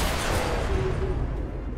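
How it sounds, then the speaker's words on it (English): A loud explosion in XCOM 2 bursts as a deep, rumbling boom with heavy low-end energy that decays over a couple of seconds. "Ooh, loud explosion again."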